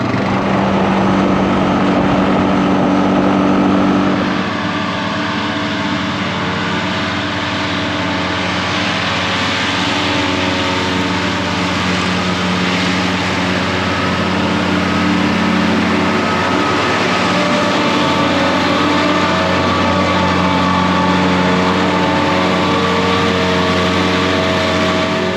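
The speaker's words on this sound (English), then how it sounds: "I feel like taking the four-wheeler to the farm today." A four-wheeler ATV engine runs at a steady drone, close and loud, holding an even rumble for the whole stretch after a brief shift in tone near the start, with no voices.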